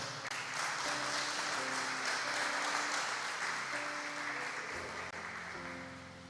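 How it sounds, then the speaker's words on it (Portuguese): Church congregation applauds in a broad, sustained wash of clapping that fills the room and slowly fades, with soft sustained musical tones underneath. "Você pode aplaudir ao Senhor?"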